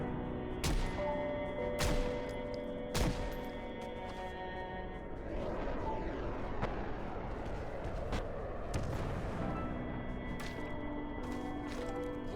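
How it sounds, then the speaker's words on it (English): Several sharp gunshots in the zombie survival game Project Zomboid ring out at irregular intervals over a steady droning game ambience, each crack distinct and moderately loud. "He loads his gun Turns back around and shoots at him."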